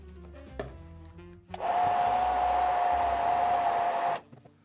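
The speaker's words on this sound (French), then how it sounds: "utilisez un sèche-cheveux afin de faire en sorte de dissoudre les joints" After a few clicks and handling sounds, a hair dryer switches on with a loud steady whine and airy roar, heating an iPhone 8 screen to loosen its adhesive, runs several seconds, then cuts off.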